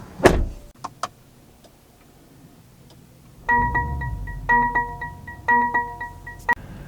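Getting into a 2022 Mercedes-AMG GLE 63 S: a door thunks open, then a run of soft electric motor whirs and chimes as the seat and power-adjustable steering wheel move, close and quiet.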